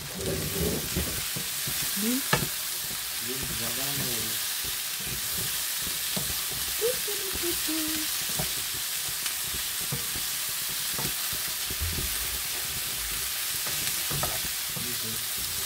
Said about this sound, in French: Donc là, vous laissez cuire les poivrons.